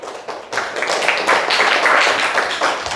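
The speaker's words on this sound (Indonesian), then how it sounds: "Tepuk tangan untuk kelompok" Students in a classroom clap for a student group, a quick, close burst of hand claps that builds after a short pause and holds at a steady level.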